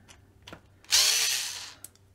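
A small 2mm hex driver backs a screw out of an RC car's wing stay, a short whirring burst of about a second following a couple of faint clicks, close and alone.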